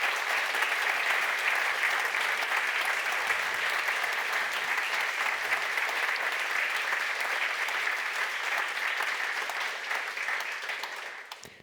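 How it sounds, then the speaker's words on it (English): A conference audience applauds steadily for about eleven seconds, a dense, even wash of many hands clapping with no voices over it, fading slightly at the very end. "Please, one applause for all the contributors."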